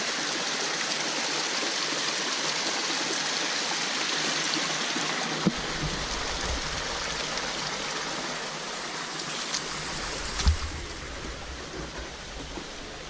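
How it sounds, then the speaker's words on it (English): A small mountain waterfall on the Cradle Mountain walking track pours in a steady, broad rushing roar, close and continuous, with a few faint knocks and rustles over the water noise. "There's a little gem of a waterfall."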